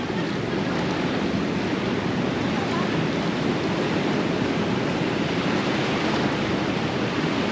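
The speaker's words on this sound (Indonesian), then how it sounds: "Kita agak mundur daripada nanti tiba-tiba ombaknya ke sini" Surf on Tanah Barak beach in Bali rolls in as a steady, close, full-bodied roar of breaking waves with no pauses, loud and unbroken throughout.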